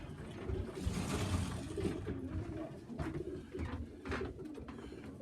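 Pigeons cooing inside a fly shed loft housing young birds, a soft continuous murmur of low coos close by with some rustling and no talk.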